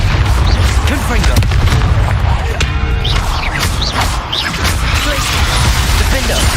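A Confringo spell explodes in Hogwarts Legacy combat, loud booming blasts and crashing impacts layered over dense, chaotic battle noise, with voices shouting briefly.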